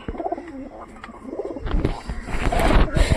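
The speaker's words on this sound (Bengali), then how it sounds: "তো আমি কবুতর লকটার ভিতরে যাই, দেখি কবুতরগুলো ঠিকঠাক আছে কি নাই।" Pigeons coo close by inside a rain-soaked, muddy pigeon loft, throaty calls swelling and overlapping, growing louder toward the end.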